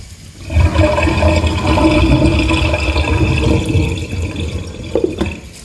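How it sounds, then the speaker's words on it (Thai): Makrut limes are rinsed in a basin of water, a loud, close, continuous sloshing and splashing that churns for several seconds before easing off into a few scattered drips and knocks. "ล้าง สามน้ำ อันนี้เป็นน้ำที่หนึ่งนะจ๊ะ"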